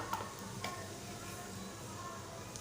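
A pinch of asafoetida and cumin dropped into hot oil for a Malvani-style tomato dish: a soft, steady sizzle with a couple of faint clinks, low and continuous over a few seconds.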